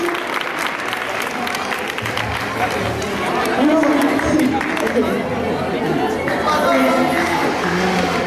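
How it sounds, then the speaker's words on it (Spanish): A room full of people claps steadily for participants at a discussion gathering, with voices and chatter mixed in throughout, close and fairly loud. "Muy bien, un aplauso a sus compañeros"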